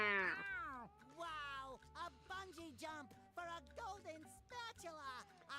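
A cartoon snail's cat-like meow from a SpongeBob video game sounds over layered background music, a single drawn-out call standing out near the start.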